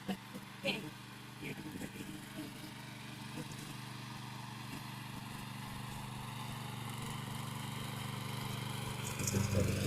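A tractor engine runs in a field with a steady mid-pitched chug that grows slightly louder toward the end, after a few brief knocks and clatters near the start.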